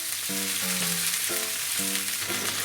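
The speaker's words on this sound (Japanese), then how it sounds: "もう一回強火にしてちょっと水分飛ばしつつおナスに焼き色つけます" Eggplant gyoza steaks sizzle in a pan over high heat, a dense, continuous close-up frying hiss with no talk.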